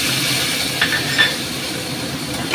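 Chopped tomatoes frying in a pan over very low gas: a steady, soft sizzle close by, with a couple of faint clinks of a utensil against the pan.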